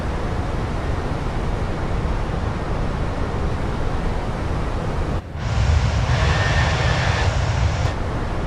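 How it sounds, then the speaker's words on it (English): Airbus A320 jet engines spool up for takeoff in Microsoft Flight Simulator, a steady loud roar that dips briefly, then surges into a fuller, brighter rush of thrust with no talk over it. "I wouldn't say that was my best takeoff"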